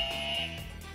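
A quiz game buzzer during a tennis trivia game sounds one steady electronic tone, loud and sustained through the second, with no talk over it.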